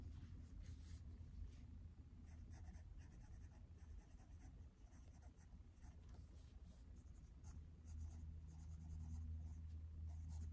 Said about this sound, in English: I'm just going to write all these options here